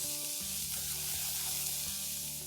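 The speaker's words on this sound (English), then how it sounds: "Now give these vegetables a good stir and let them cook for a few seconds." Carrots and corn sizzle in a pan as they are stirred, a steady close hiss with a low hum underneath.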